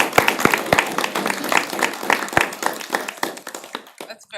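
Meeting attendees clap in a brief, loose burst of distinct handclaps, sharp and fairly close, thinning out and stopping near the end.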